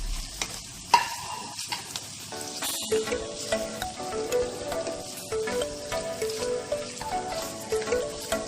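Julienned capsicum and boiled carrots being stir-fried in a pan for egg-soya veg hakka chowmein, a soft continuous sizzle broken by repeated scraping stirs of a spatula, close by and quiet, no voices.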